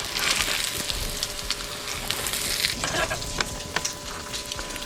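Bread bun toasting in a pan over moderate heat for crab burgers, giving a steady close sizzle and crackle with scattered sharp pops and light scraping, no voices.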